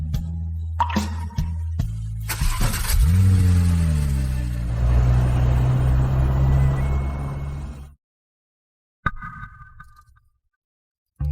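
A car engine runs steadily, then revs and pulls away, the rumble fading over several seconds into near silence, followed by a brief faint clatter.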